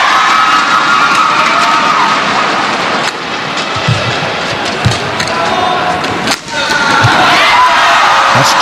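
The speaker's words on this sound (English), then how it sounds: "It's applause from their coaches on the sidelines." A large indoor crowd roars and cheers continuously at a women's team badminton match, a dense wash of noise with a few sharp thumps and brief dips.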